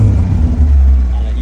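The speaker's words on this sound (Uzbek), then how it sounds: "Mashina bitta ovozini eshitaman deganlar uchun mashina ovozini" A car engine runs with a close, loud, low rumble that holds steady through the brief moment.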